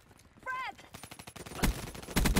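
Rapid gunfire bursts from the video game Call of Duty Black Ops III, sharp repeated shots in quick clusters, loud and close, with a brief synthetic tone earlier in the clip.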